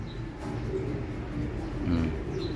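Racing pigeons coo softly in a loft, a low, steady murmur of overlapping calls that carries through the whole stretch with no one talking.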